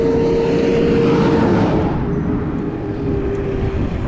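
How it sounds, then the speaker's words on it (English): A garbage truck passes on a country road between Port Angeles and Sequim, its loud engine roar and tire rumble strongest at first, then easing off into a steadier, fainter drone as it moves away. "Well, there's said garbage truck."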